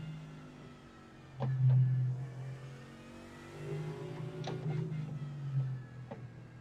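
A VRS GT race car in iRacing at Road America drones at mid pitch through shifting revs, with rising and falling engine tones and a few brief ticks, and no voices over it.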